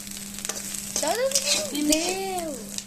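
Food stirred in a hot frying pan, sizzling steadily near the microphone, with a low constant hum underneath and a wavering squeal rising and falling partway through.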